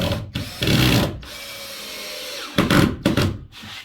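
A power drill drives screws into upstairs chipboard flooring in two short whirring bursts, separated by a quieter stretch of handling noise, heard close up.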